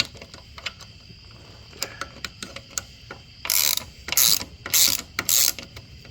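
A ratchet wrench loosens a 10 mm bolt on a 50cc Icebear moped, first with scattered light clicks, then four quick bursts of rapid, close ratcheting.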